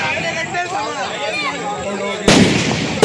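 Firecrackers set off at a traditional household Ganesh immersion in Konkan during rainy weather, heard as sharp, loud bursts near the end following a stretch of crowd chatter and background voices.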